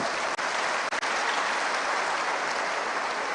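An audience at a live roadshow event gives dense applause, a steady wash of many hands clapping with two brief dropouts near the start.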